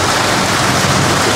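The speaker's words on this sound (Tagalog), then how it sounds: "Medyo malakas na yung ulan." Heavy rain pours down outdoors in bad weather, a loud, dense, unbroken roar of water with no voices over it.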